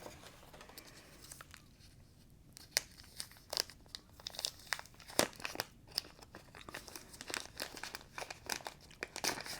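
Plastic pouch crinkling and rustling as it is opened while unboxing a DJI Osmo 360 camera, with irregular crisp crackles and sharper snaps close up, no talking.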